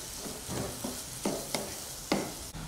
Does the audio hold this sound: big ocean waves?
no